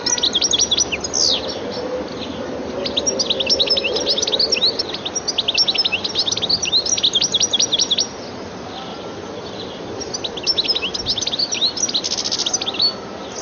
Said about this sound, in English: The goldfinch's looks, as well as its attractive calls and more elaborate song, make it a welcome visitor to gardens.